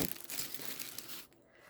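Plastic packaging crinkles and crunches close up during an unboxing of vintage craft goodies, a busy rustle that fades after about a second.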